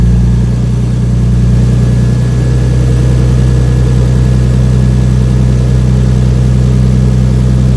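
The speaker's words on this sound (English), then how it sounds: "Engine is on" A Nissan R32 Skyline engine idles loudly and steadily up close, an unbroken low rumble with a faint high whine and no change in speed, while the battery warning light is on and the alternator is not charging.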